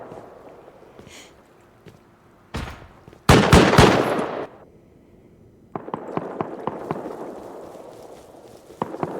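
Gunfire in the video game Rust: a few isolated shots, then a loud rapid burst of automatic fire, followed by a longer run of quieter, scattered shots at moderate distance.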